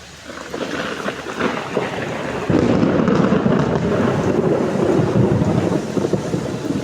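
Steady rain pours down with a broad rushing hiss that grows heavier partway through, accompanied by deep rumbling that could be distant thunder.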